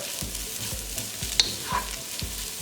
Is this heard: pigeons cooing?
no